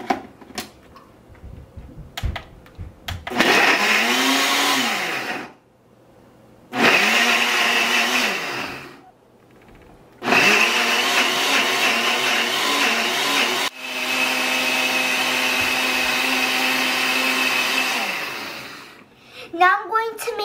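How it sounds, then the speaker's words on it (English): Fruit smoothie whirring in a blender, loud motor roaring in four separate runs of a few seconds each, pitch sagging and settling as the blades chew through fruit, with brief clicks and quiet pauses between. "Now I'm going to blend it."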